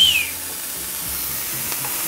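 Corn kernels searing in a hot, uncrowded pan, a steady close sizzle and hiss throughout, with a brief scrape or clink at the start and no talking.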